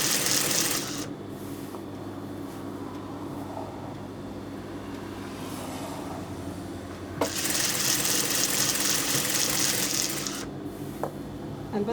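Sewing machine stitching a kameez seam, a steady mechanical whir running throughout with a brighter, faster burst in the later part, heard alone without talk.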